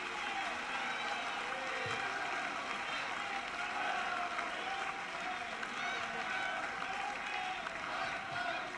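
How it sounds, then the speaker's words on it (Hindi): A seated audience at a Teachers' Day event in Rajasthan applauds steadily and continuously, honouring Chief Minister Bhajanlal Sharma's teacher; the clapping of a large crowd holds at an even level throughout, with a faint murmur of voices beneath. "खड़े होकर अपने स्थान पर खड़े होकर जोरदार तालियों के साथ अभिनंदन करें"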